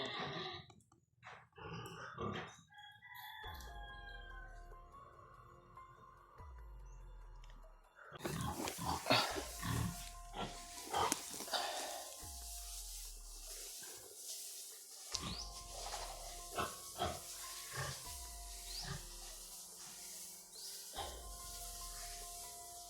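Pig grunts from pigs out in the open, as short rough snorts recurring irregularly through the stretch, near and fairly loud over background noise and other animal or bird sounds.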